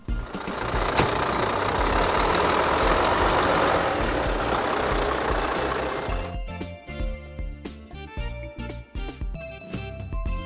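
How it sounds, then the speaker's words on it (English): A garbage truck runs with a loud, broad engine and mechanical roar for about six seconds. The roar then gives way to a choppier stretch of thumps and tonal bursts that could be reversing beeps. "Garbage truck."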